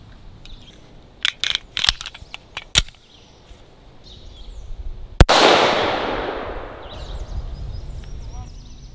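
A CCI shotshell fired from a gun outdoors gives one sharp, loud report with a long decaying rush after it, preceded by a handful of quick clicks and knocks from handling the action.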